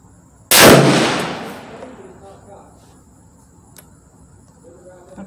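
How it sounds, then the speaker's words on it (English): A single loud, close rifle shot cracks at the range and then rolls away in a long decaying echo over faint outdoor insect-like ambience. "here goes the last shot."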